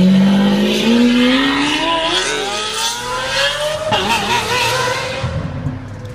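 A car with a loud exhaust drives past in one sustained pull, its high engine note falling away as it passes, near and loud, fading over the last seconds.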